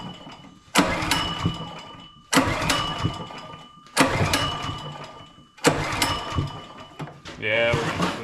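Old Kohler 6.5 engine left outdoors for ten years, heard being cranked in four loud, abrupt attempts that briefly catch and sputter before dying away, with a voice speaking at the end.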